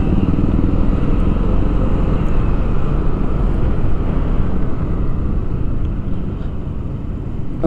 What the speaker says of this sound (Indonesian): Ini akselerasi nih motor si gembur satu ini pun mantap nih.